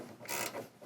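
A 15 mm wrench spins a shock absorber bolt out during an Ironman 4x4 suspension install on a 2021+ Ford F-150, giving two quick bursts of close metallic ratcheting.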